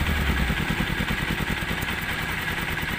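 A Honda NS200 motorcycle engine idles with its muffler covered, a steady low throbbing chug with a faint clatter. It runs continuously and close up, with no talk over it.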